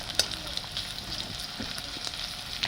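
Finely chopped onions fry in hot oil in a pan for a Bengali fish curry, giving a steady, close sizzle with small crackles and no talking.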